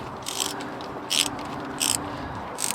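Ratchet wrench loosening captive inlet manifold bolts on a Land Rover Freelander, heard as four short bursts of clicking spaced about half a second apart, close and clear over a steady low hum.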